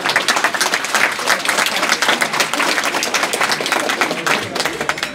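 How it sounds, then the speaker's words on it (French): Outdoor crowd applauding at the inauguration of a public space in Saint-Ouen-sur-Seine, lively sustained clapping with a few louder individual claps throughout. "On peut applaudir."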